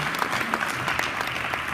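Audience at a talent show audition claps steadily, a dense, even burst of applause from a crowd filling the room.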